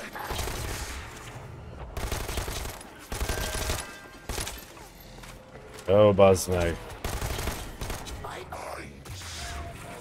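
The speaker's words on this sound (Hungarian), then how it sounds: "Nekem ilyen géppisztolyom nincs" Submachine gun fire in the video game Dead Island 2 rattles in rapid bursts of sharp shots, broken by short gaps, while players talk over part of the shooting.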